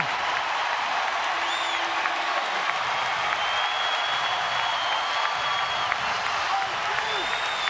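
Baseball crowd at a San Francisco at San Diego game cheering and applauding, a dense, steady roar of clapping and shouts with a public-address voice faintly over it.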